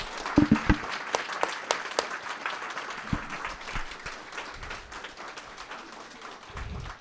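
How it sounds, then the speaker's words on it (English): Audience applause for museum staff at a Helen Frankenthaler exhibition opening and community appreciation reception: a loud opening burst of clapping that settles into steady, sustained applause from a mid-sized crowd. "They absolutely deserve a huge round of applause."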